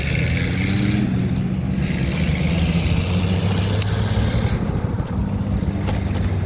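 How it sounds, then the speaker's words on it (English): A motorcycle pulls away from a dead stop at a green light, its engine rumbling loudly and steadily throughout with a low, constant drone and no speech. "I often use my throttle to get myself started from a dead stop at a stoplight"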